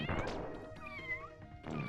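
Cartoonish cat meows from the Addams Family: Pugsley's Scavenger Hunt video game, several close, clear mewing calls in quick succession with a short burst of noise between them.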